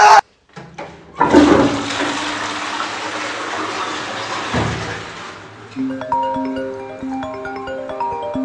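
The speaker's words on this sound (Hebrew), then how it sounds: "שמעתי את השירותים שלך מהבית שלי" A toilet flushing loudly up close, a strong rushing gush of water that drains away and gives way to the cistern refilling with a steady hiss and trickle.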